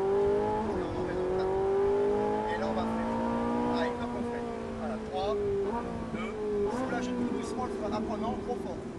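A Ferrari 458 Italia accelerates on a track, its engine note climbing steadily through the gears with a rising harmonic drone; a voice talks over the loud, close engine.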